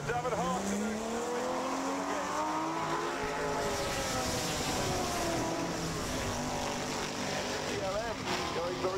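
A Ferrari 250 Le Mans and a Lister-Jaguar race at the Goodwood Revival 2013 RAC TT Celebration, their engines roaring loudly and sweeping in pitch as they pass, under steady commentator talk.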